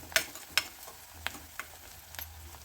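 Onion being sautéed for peanut chutney in a pan, a few sharp scraping stirs against the metal over a faint, steady background sizzle, close and fairly quiet.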